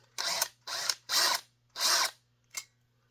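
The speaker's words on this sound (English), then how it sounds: "So if we tighten this range screw up, let's tighten this up." A range screw on a pressure switch being tightened with a small power driver, four short whirring bursts in a row followed by a brief final blip, close and isolated against a faint steady hum.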